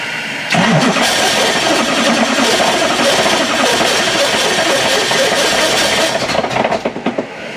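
A 700 hp naturally aspirated Toyota AE86 drift car cranks and fires up, bursting into a loud, raspy, steady idle that runs close and continuous before roughening slightly at the end.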